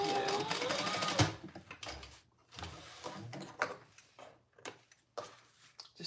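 A sewing machine runs a short 1/8 inch seam on a fabric travel pouch, a steady fast whir for about a second, then scattered clicks and handling noises follow.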